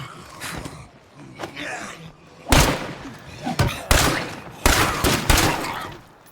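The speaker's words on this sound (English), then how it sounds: "Oh, you also wanted to hear guns?" Gunfire rings out in State of Decay 2, with several loud, sharp bursts of shots breaking in after a quieter start and repeating at uneven intervals.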